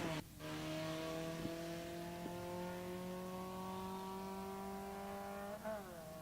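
An 1982 Ford Escort drag car, a V-stick machine, accelerating hard through the gears at a drag strip, a steady rising engine drone with brief dips at the shifts, heard from a moderate distance.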